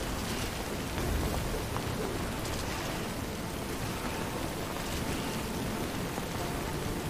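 Steady rain with low rumbling thunder fills an outdoor scene in the video game Death Stranding, a continuous, fairly loud downpour hiss with deep rolling undertones and no voices.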